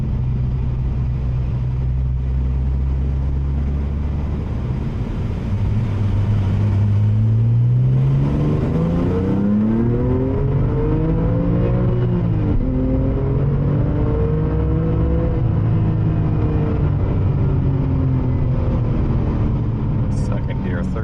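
A Porsche 997 Turbo accelerates hard through second and third gear, its engine note rising in pitch with each pull and dropping at the shifts, loud and close behind steady road and wind rumble while someone talks over it.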